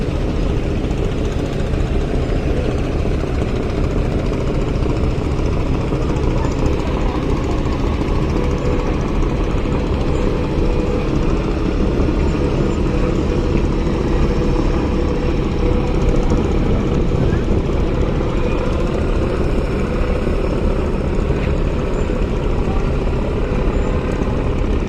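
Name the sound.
passenger launch boats' engines on river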